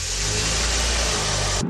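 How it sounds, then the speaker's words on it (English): A car engine runs loudly and steadily, revving with a strong low rumble throughout before cutting off abruptly near the end. "So you get into your vehicle, you fire up the engine"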